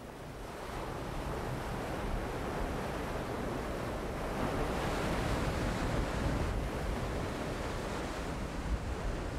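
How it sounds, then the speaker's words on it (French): Steady roaring wind carrying spray buffets the microphone on an atoll while surf crashes continuously nearby, a dense, unbroken rush with no voices. "un vent violent chargé d'embrun balaie l'atoll"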